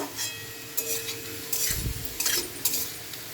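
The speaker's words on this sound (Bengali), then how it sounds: "আলু বরবটিটা আমার প্রায় ভাজা হতে এসেছে" Potatoes and long beans sizzle in a hot pan while a spatula scrapes and stirs in short bursts, close and clear, with no talking.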